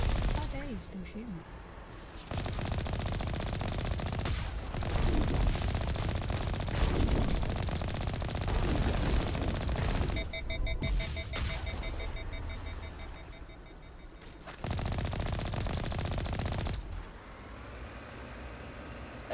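Gunfire in the Mass Effect video game, bursts of rapid shots and blasts separated by brief gaps, with game sounds, electronic beeping and a speaking voice mixed in.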